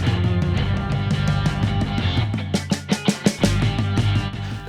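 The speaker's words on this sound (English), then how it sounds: "using only alternating single strokes, 4 per pulse, your goal is to explore moving around the drums" Drum fill of alternating single strokes, four per pulse, travelling around the toms and snare in a steady rapid stream, ending in a few louder accented hits.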